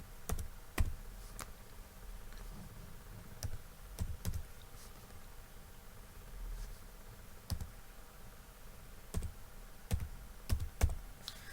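Keys on a computer keyboard click sharply and sporadically, single presses and quick pairs spaced a second or more apart, close and fairly quiet over a faint room hum.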